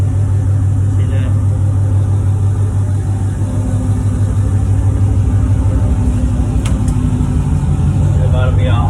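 Chevrolet Silverado V8 with a newly installed cam and stall converter idling on a cold start, a steady close low rumble throughout, with talk nearby.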